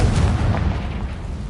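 A Confringo fire spell blasts in Hogwarts Legacy, a single close, loud, low boom that rumbles and fades over a second and a half, with no voices.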